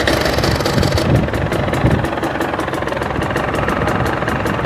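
A Husqvarna TX300i motorcycle engine runs steadily after a repair, still hot, with a loud, close, rough mechanical drone and rapid regular pulsing throughout, no voices.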